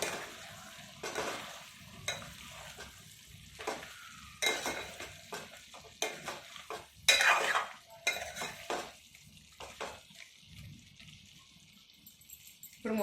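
A spoon scrapes and stirs garlic chicken fry in a pan, with a soft sizzle underneath and repeated metallic clinks against the pan at an irregular rhythm, close and fairly quiet.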